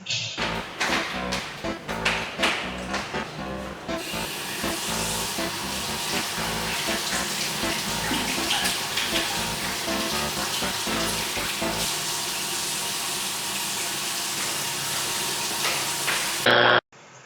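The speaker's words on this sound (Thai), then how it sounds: "ไม่ปิดน้ำหลังใช้งาน" Water running from a tap in a public restroom, a steady close splashing stream poured into a sink, continuous for most of the stretch before cutting off abruptly near the end.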